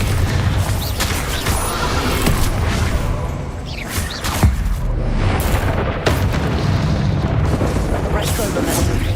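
Bombardo explosion spells in Hogwarts Legacy combat, repeated loud booming blasts and crashing bursts layered over constant rumbling battle noise, close and intense, with shouted voices mixed in.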